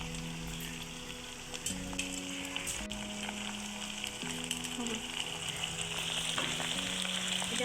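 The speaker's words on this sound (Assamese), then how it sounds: "এতিয়া মই লৰাই লওঁ" Meat coated in turmeric and spices frying in oil while being stirred for homemade pulao: a steady, close sizzle broken by scraping stirs over a faint droning tone.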